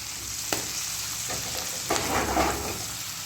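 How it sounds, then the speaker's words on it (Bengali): Capsicum frying in a pan makes a constant sizzle. A few sharp stirring knocks and scrapes sound close by, with no voices. "ক্যাপসিকামগুলোকেও ভালো করে আমি এর সঙ্গে ভাজা ভাজা করে নেব"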